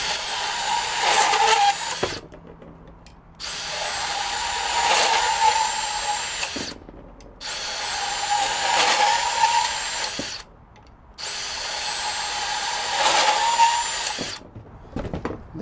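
A DeWalt 20V Max compact band saw, model DCS377Q1, cuts metal in four repeated runs, each a steady close whine lasting about three seconds and separated by short pauses.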